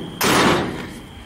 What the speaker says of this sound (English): I like the way the passenger door opens and closes better.